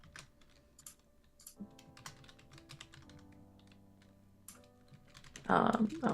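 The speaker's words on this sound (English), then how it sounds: "I'm still typing it up" Rapid typing on a computer keyboard with bursts of clicking keys, heard close over quiet background tones, with a louder flurry of keystrokes near the end.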